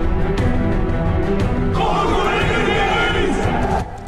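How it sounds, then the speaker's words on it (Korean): Soldiers in a war film about a special forces unit raise a massed battle cry that swells in from a distance, a crowd roar rising over ongoing loud gunfire and combat noise. "어디선가 들려오는 함성 소리"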